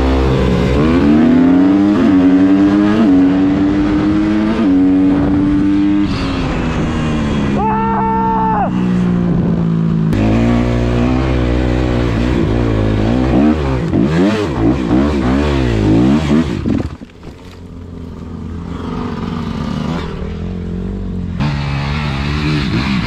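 Loud enduro motorcycle engines rev and rise in pitch repeatedly, close by, with a brief drop to a lower idle drone toward the end.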